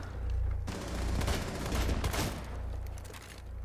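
Gunfire in the video game Rainbow Six Siege, a rapid burst of shots in quick succession peaking mid-clip over a low hum, fairly loud, with no speech.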